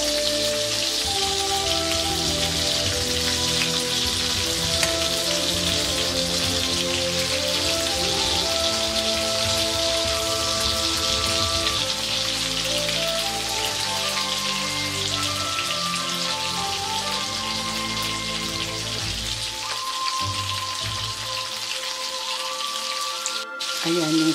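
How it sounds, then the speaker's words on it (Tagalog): Shrimp frying in a pan for a tofu, luncheon meat and shrimp dish, a steady loud sizzle and crackle like heavy rain running continuously, with faint tonal background sounds layered underneath. "nag-fried tayo ng shrimp"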